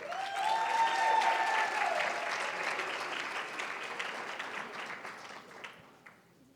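An audience at a Hampton University Forty under 40 brunch and induction ceremony applauds and cheers. Sustained clapping with a few whoops early on slowly fades out over several seconds.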